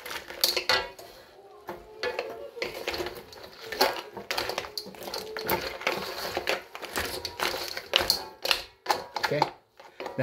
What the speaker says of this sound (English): So you wait around a minute, stir frying it, make sure everything's coated.